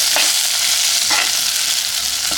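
Fenugreek seeds and chili powder fry in a pan for a fish curry, giving a loud, even sizzle with a couple of brief stirring scrapes, close up and with no voices.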